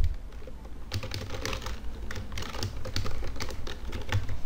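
Steady typing on a computer keyboard while a password is entered, rapid irregular key clicks running continuously and fairly close, with no talking.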